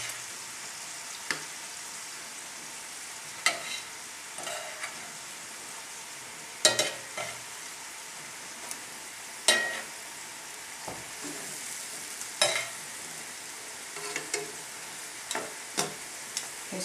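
Chicken pieces fry with a soft continuous sizzle in a pan, broken by scattered sharp scrapes and clinks of stirring at irregular intervals, close-miked with no talk.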